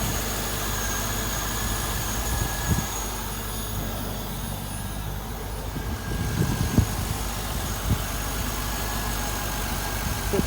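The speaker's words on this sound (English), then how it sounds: "Nice, quiet, clean engine." A 2000 Chevrolet Corvette engine idles at close range, a steady low rumble with a few soft knocks and shifts, no speech.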